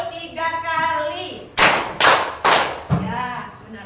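A group claps hands in rhythm: four loud, evenly spaced claps follow a stretch of talking.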